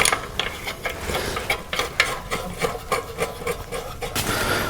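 A 12mm bolt on a motorcycle exhaust clamp is tightened with a wrench, giving a string of close, irregular metallic clicks and scraping ratchet sounds at moderate volume.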